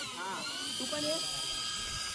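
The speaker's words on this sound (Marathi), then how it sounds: "हा ड्रोन वरतोय." A steady, high-pitched motor whine with layered buzzing tones, like a small drone hovering nearby, with voices faintly underneath.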